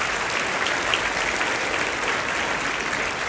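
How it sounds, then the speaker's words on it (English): A high school audience gives a newly introduced school board member a round of applause, dense, even clapping filling the room with no speech over it. "So if we could give her a round of applause for coming."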